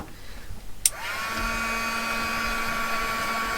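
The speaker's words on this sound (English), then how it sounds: "What I will do now, I think, is hit this with the heat gun a little." A heat gun blows on a painted cotton bud, switching on with a click and settling into a steady, loud whirring roar with a faint electric whine that holds to the end.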